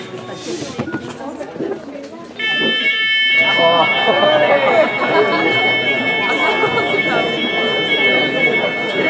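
A fire alarm starts up partway through at a Christmas party, a loud continuous electronic tone over a busy crowd with chatter and voices throughout.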